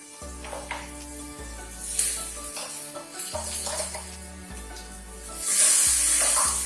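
Ground masala for a prawn curry sizzling as it hits a hot pan, hissing bursts over a faint background hum that swell into a loud, sustained sizzle near the end.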